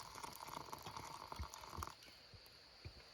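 Water poured into a coffee press at a river campsite on the Allegheny River: a close, steady splashing pour for about two seconds, then a stop with a few soft drips and trickles, no voices.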